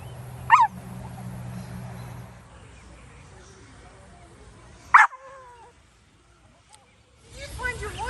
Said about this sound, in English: Did you bark like a big girl?